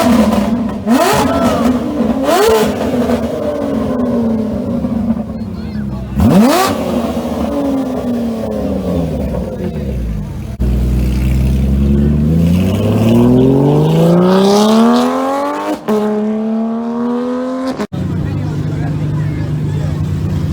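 A Lotus Emira sports car engine revs repeatedly in sharp bursts, then climbs in long rising sweeps and shifts, loud and close throughout.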